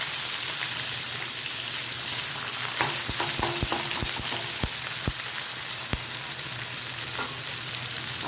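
Onions sizzling and frying in hot oil in a home kitchen pan, a steady close crackle with a few sharp stirring clicks and pops partway through, no voices.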